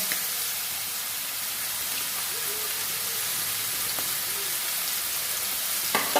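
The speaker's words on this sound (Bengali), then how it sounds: "পেঁয়াজটা ভেজে নেব" Onions and green chillies fry in a pan after fish for a morola fish curry, an even, close, rain-like sizzle throughout with a couple of faint clinks and one sharp tap at the end.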